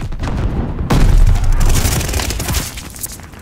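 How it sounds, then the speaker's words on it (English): A loud, sudden grenade blast in Call of Duty: Vanguard multiplayer booms in close, then rolls into a sustained rumble of gunfire and debris. "Incoming grenade!"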